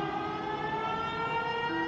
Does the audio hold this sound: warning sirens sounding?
yes